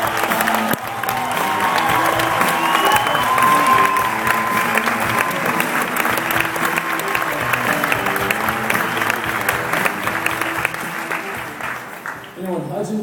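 Audience applause welcoming fitness trainer Tony Horton at an event, sustained loud clapping from a sizable crowd with a few cheers, continuing for many seconds before tapering off at the end.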